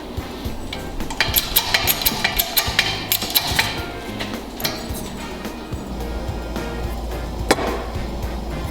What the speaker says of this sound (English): get her hot and hit it with a hammer.